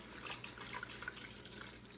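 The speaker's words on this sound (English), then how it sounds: "I'm just gonna pour it till it covers the turkey meat" Water poured from a bottle into a cooking pot over turkey meat while preparing greens, a steady close splashing trickle lasting the whole stretch with no talking.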